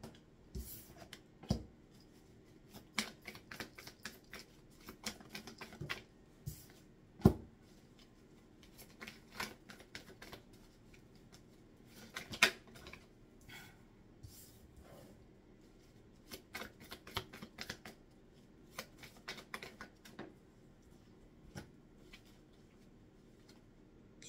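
A deck of tarot cards shuffled by hand for a reading, close and soft, with bursts of riffling and sliding cards in irregular clusters, separated by brief pauses and an occasional sharper tap of the deck.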